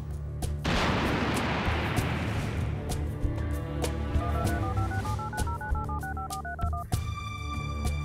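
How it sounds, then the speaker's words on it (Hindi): A telephone rings with an incoming call over a loud dramatic musical score with booming hits, and a rising and falling electronic tone pattern stands out midway through. No one speaks. "माँ सावित्री आंटी का फोन है"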